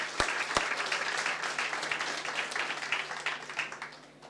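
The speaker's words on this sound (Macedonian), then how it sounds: "мислам дека првиот аплауз треба да оди токму кон вас" An audience at a debate hall breaks into applause, a dense, steady patter of many hands clapping that fades slightly toward the end, with no speech over it.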